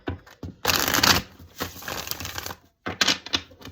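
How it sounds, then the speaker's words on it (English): Tarot cards being shuffled by hand in quick riffling bursts, three main runs separated by brief pauses, close and crisp with no talking. "Give this one good shuffle."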